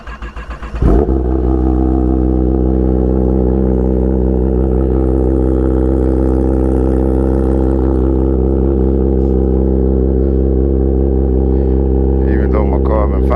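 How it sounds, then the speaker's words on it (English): A 2022 Kawasaki ZX10R motorcycle with a cracked carbon-fiber exhaust tip starts cold early in the morning, catching after a brief crank and settling into a loud, steady, rumbling idle held close up for over ten seconds. "I'm finna get this early morning cold start."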